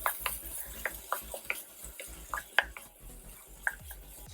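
A spoon stirs peeled, cut radish with a medium tomato in a pan, scraping and tapping the metal in an irregular rhythm with a faint sizzle underneath; close and moderately loud, no talk.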